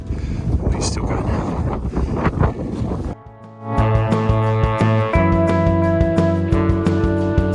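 Strong wind buffets the microphone on a cliff summit, a loud rushing roar for about three seconds before cutting off into music.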